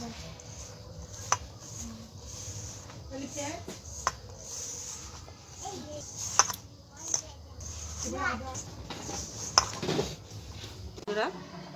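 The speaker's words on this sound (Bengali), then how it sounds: "পেঁয়াজ কুচি আদা কুচি ধনে পাতা কুচি সবগুলো আমি ভালো করে মিশিয়ে নেব" Chopped onion, ginger and coriander leaves mixed in a bowl for cauliflower pakora batter, with soft scraping and occasional utensil clinks against the dish while a person talks throughout.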